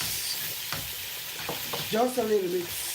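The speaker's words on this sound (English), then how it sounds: "I put this gravy and stir it around" Palm nut soup gravy sizzles in a pot while it is stirred, with a steady frying hiss broken by a few scraping strokes. A voice speaks briefly near the end.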